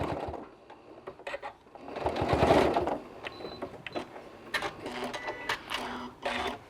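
A sewing machine runs back over stitches on a fabric ice cream cozy, giving a fairly quiet mechanical whirring burst amid scattered clicks and handling noises, with no talk.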